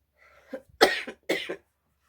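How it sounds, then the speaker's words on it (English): Two harsh coughs from allergies and asthma, close to the mic, the second a quick double burst, after a brief faint throat sound. "My allergies and my asthma keeps acting up, and I just cough and cough and cough."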